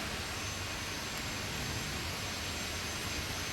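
A turbine-powered modified pulling tractor at the 1996 NFMS finals in Louisville, Kentucky, roaring with a steady jet-like whine and broadband rush as its tires spin, loud and continuous without a break.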